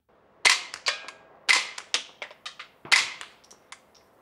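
A rimfire rifle fitted with a BDE suppressor fires three sharp, close cracks, each followed by a quick trail of smaller snaps and mechanical clicks. No one speaks.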